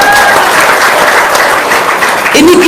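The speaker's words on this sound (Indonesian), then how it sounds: "Tepuk tangan dong." An audience at an Indonesian talk or seminar bursts into sustained, dense applause, loud and close, with clapping filling the whole stretch and a voice briefly heard near the end.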